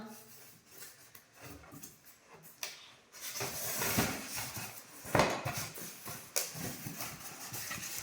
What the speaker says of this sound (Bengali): উপরে কাচের প্লেটটা আগে তোল, ভেঙে যাবে।